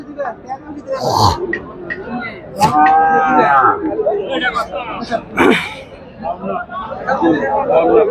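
Cattle at the Mirshanni livestock market moo loudly several times, a long low call in the middle among shorter ones, over a busy crowd murmur with people talking nearby.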